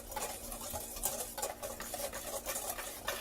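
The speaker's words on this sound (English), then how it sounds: "we're going to whisk that all together" A whisk stirs dry all-purpose flour, cornstarch and salt in a bowl, a steady soft scraping and rustling that continues close and quiet with no talk.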